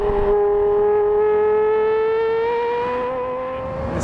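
Porsche Carrera GT engine revving loud and close, a single sustained high-pitched wail with pitch rising slowly, then easing off toward the end.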